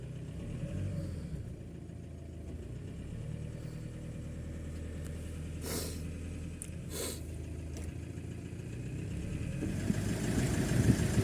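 An Iveco Daily engine runs in second gear with a rear wheel spinning freely during bearing work: a steady mid-pitched hum with a few sharp clicks and knocks, growing slightly louder toward the end.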